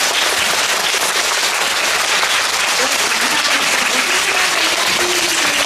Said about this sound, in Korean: 모두 박수 부탁드릴게요